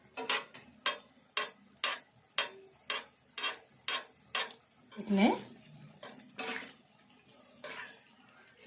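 Hot oil spooned over pesarapappu ariselu frying in a pan: a steady run of about a dozen sharp metallic taps and sizzling splashes at roughly half-second intervals, then a scraping sweep and slower, irregular splashes, close and moderately loud.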